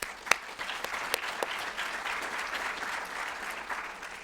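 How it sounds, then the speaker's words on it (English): Audience applause at a Troy business community event honoring supporters, steady dense clapping from a sizable crowd with a few sharper claps standing out, sustained throughout at moderate distance. "Please give them a round of applause."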